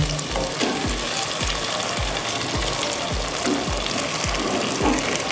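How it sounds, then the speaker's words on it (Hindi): Lightly fried fish pieces cook in sizzling masala for fish korma, a steady loud frying hiss close by with evenly spaced soft clicking knocks, no voices. "मसाला हमारा पक चुका है, इसमें हम फ़िश शामिल करेंगे और थोड़ा सा पकाएंगे"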